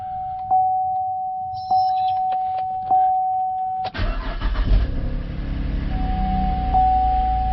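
A 2013 Chevrolet Camaro, its instrument cluster just reinstalled, chimes several times before the engine cranks and catches, settling into a steady close idle, after which the chime returns.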